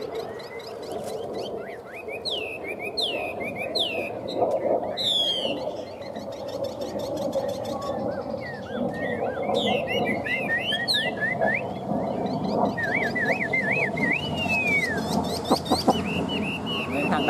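A hwamei songbird sings a long, varied run of bright whistles, warbles and trills in quick phrases, close and lively over a steady background hum.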